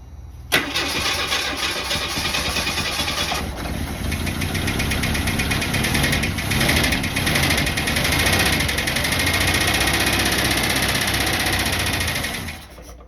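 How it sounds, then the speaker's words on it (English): An old car engine, freshly tuned up, cranks and catches with a sharp start, then settles into a loud, steady, slightly rough run with a faint knock, close by for over ten seconds before cutting off. "we know we have a running engine"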